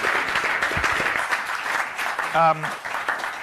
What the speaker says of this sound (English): But a big round of applause for all of the people you've seen pitch.